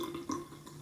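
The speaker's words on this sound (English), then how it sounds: "I'm going to go down the line and pour these out." Hard seltzer poured out of a can, a soft trickle and splash of liquid with a brief gurgle partway through, close and faint, with no voice over it.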